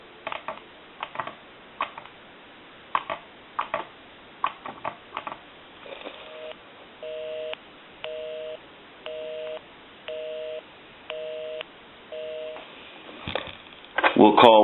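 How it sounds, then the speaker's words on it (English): Touch-tone key beeps and clicks ring out in irregular bursts from a wood wall touch-tone telephone, then a steady repeating busy signal pulses several times before a brief louder clatter. "Give you some dial tone there"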